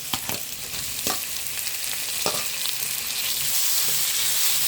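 Tomato dropped into a hot pan for vazhakkai varuval, sizzling steadily with a few sharp clicks of a spoon stirring against the pan, close and clear with no talking.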